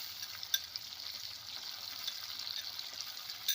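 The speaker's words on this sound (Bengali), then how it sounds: "খুব ভালো করে মিশিয়ে নেব উপকরণগুলো" Garlic and onion paste with chilli paste stirred in a hot pan, giving a steady, quiet sizzle of frying with faint scraping under it and no talk.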